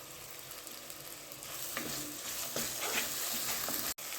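Ground masala frying in a pan gives a steady, close sizzle with light stirring scrapes that grows slightly louder and then cuts off briefly near the end, with no talking.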